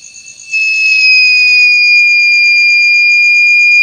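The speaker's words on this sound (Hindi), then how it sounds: "ये इसका जो अलार्म है ये फिर से बजने लगा" A buzzer alarm on a homemade diode heat and fire sensor circuit sounds after a short quiet start, a loud, piercing, steady electronic tone with a faint pulsing that continues without a break.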